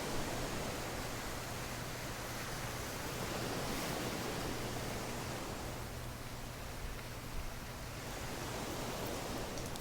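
A constant broadband wash of tropical beach waves from a meditation app, like surf rolling on a shore, steady and soft with no talking.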